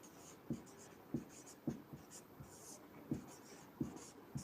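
Handwriting while solving a math problem on voter percentages, a quiet series of regular scratchy pen strokes close by, about eight short marks spaced roughly half a second apart, no talking.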